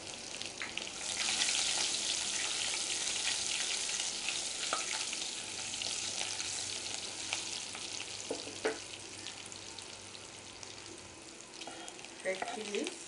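Crushed garlic sizzling in hot oil for a dal tempering, a steady loud frying hiss that runs the whole time, with a few light stirring clicks and scrapes near the end.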